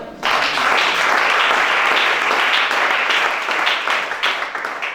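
Worshippers at a deliverance church service clap loudly and continuously, a dense wash of applause that holds steady and then tapers slightly at the end.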